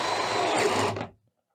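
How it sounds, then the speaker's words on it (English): Hart HPID01VN 20V cordless impact driver running on a low speed setting while drilling, a loud steady broadband whir for about a second that then cuts off abruptly into silence. "We'll see if it torques out or if I can actually drill at that speed."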